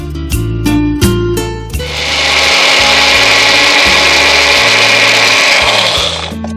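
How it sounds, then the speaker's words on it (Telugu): A kitchen mixer grinder blends garlic, green chillies, ginger and poppy seeds: three quick loud pulses, then a sustained, close, high-pitched whir that runs for several seconds before winding down. "వీటిని మిక్సీ పట్టాలి."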